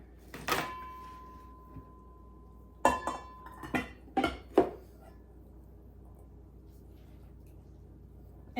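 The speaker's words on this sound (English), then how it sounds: "And now I'm just going to put it in this enamel bowl." Mexican street corn salad spooned into an enamel bowl: a few clinks and scrapes of utensil against enamel, brief clattering knocks spaced over several seconds, fairly quiet in a still kitchen.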